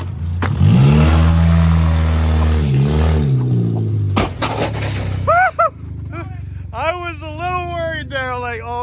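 A Ford car revving hard during a burnout, with a loud roaring engine whose pitch climbs and falls over several seconds, then abrupt crashing clatter, followed by high squealing, sweeping tones mixed with shouting voices.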